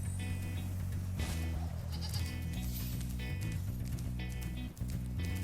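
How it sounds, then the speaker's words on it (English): Bleating sheep hop around in Spyro the Dragon, each springy hop giving a bouncy, boing-like effect over steady game music, repeated several times across the clip. "the sheep hopping makes like the same sound effect as the spring from Tonic"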